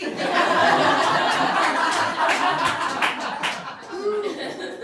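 Audience applause at a stand-up comedy show, dense clapping mixed with chuckles and laughter that swells and then thins out, with a voice briefly audible near the end.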